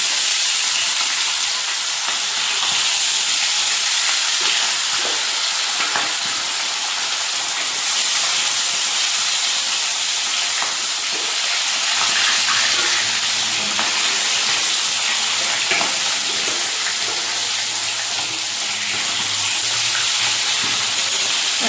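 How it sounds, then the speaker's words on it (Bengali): Fish fry in hot oil in a kadai, giving a loud, steady sizzle and hiss that fills the whole stretch with no one speaking. "এই কড়াইতে মাছ ভাজতে সুবিধা হয়"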